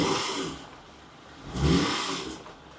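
A car engine revs up twice during a brake-noise diagnosis at a repair shop, rising to a louder surge midway then easing off, close and unaccompanied by talk.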